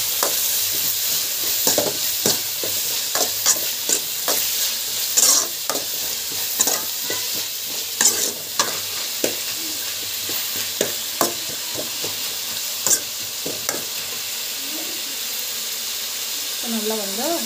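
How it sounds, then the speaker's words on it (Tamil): Tomatoes sautéing in a pan for a dry fish curry, with a steady sizzle broken by repeated scraping stirs of a spatula, close and fairly loud throughout. "டொமேட்டோ ஆட் பண்ணிவிட்டு நம்ம வந்து நல்லா வதக்கலாம்."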